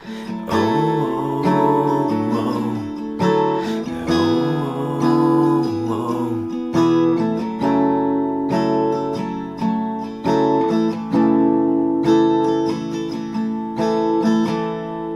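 Strummed acoustic guitar chords, played with a capo, ring out in a steady turnaround progression from a song, each chord sustained and changing every second or two, clear and close.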